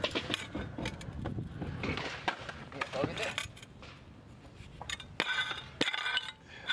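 Shards of a broken glass skateboard clink and tinkle in a series of sharp, close hits scattered across the clip, some louder bursts near the end, with a person talking in between.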